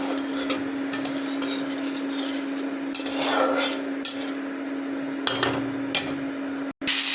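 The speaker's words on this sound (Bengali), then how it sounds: "আমি বিটগুলো ছেড়ে দিয়েছি" Beetroot pieces frying in hot oil in a wok with dried red chilli and black cumin make a steady hiss, broken by metal spoon clinks and scrapes against the pan and a low constant hum.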